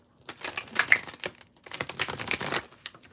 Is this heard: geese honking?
no